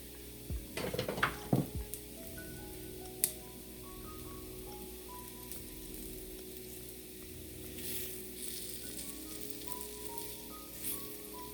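Vegan beef pieces brown in a pan, a soft continuous sizzle heard close but quiet, with a quick cluster of pan and utensil clanks near the start.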